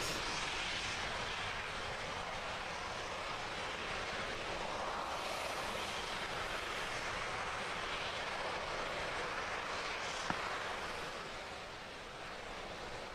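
A continuous, powerful roar of a SpaceX rocket's first stage engine burning during the CRS-14 Dragon resupply launch, steady and broadband like rushing wind, with no voices.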